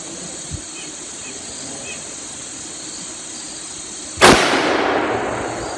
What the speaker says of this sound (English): So let's try another shot at this distance of 25 yards.